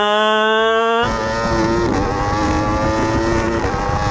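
A race car engine roars at high revs on a track straight, pitch climbing steadily as it accelerates hard toward the rev limiter, continuous and close, with no talk over it.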